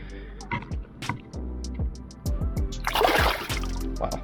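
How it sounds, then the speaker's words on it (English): A released snook splashes in shallow water several times, giving sharp watery slaps close by, with a louder burst of spray near the end over gentle trickling. "Wow, he splashed the camera."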